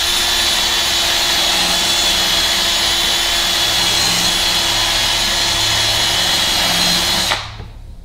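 An abrasive flap mop spun by a power tool sands wooden table legs, making a steady, loud, close whirring grind that runs continuously and cuts off abruptly near the end.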